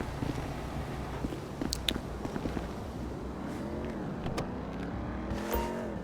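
A car in the video game GTA V drives and accelerates, its engine note climbing and falling in repeated revving sweeps over steady road and wind noise, fairly loud and close.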